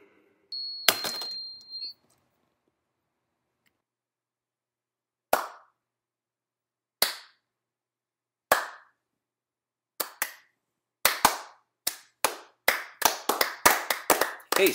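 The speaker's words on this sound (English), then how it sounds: "Hey, stop that slow clapping shit." Slow, deliberate hand claps ring out sharply in a quiet room, first sparse and widely spaced, then coming faster and closer together toward the end, each clap crisp and isolated against near silence.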